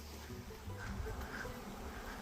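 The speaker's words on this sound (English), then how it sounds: "We're catching a real live swarm in one of the bee boxes that we picked up" Live honeybee swarm being caught in a bee box, a faint, steady droning hum of many bees with no voices.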